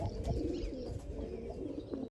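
Steady low cooing of a pair of pure-bred Hazar pigeons in a net enclosure, several birds murmuring continuously and close by, with soft rustling underneath.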